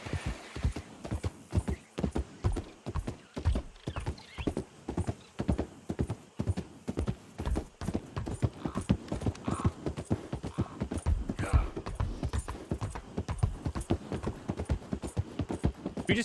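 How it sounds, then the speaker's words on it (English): A horse walks across a wooden bridge in Red Dead Redemption 2, its hooves clip-clopping in a steady, close, hollow rhythm throughout, with an occasional snort or whinny. "riding a horse across a wooden bridge like this"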